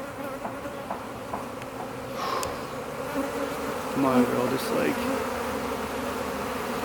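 A honey bee swarm buzzes steadily and densely close by, a continuous insect drone with a person speaking briefly over it.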